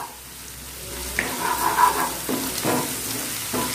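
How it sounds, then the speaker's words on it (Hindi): Onions and garlic sizzle steadily in a hot pan, with a few scraping stirs breaking through the frying hiss. "प्याज को अच्छे से भून लूंगी"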